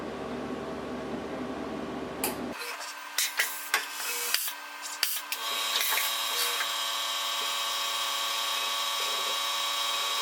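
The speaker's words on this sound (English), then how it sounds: "let's tell it to grab tool number 2" A Tormach 1100MX CNC mill runs its tool change to tool number 2, with a steady machine hum, a few sharp clunks and clicks in the middle, then a sustained whirring drone.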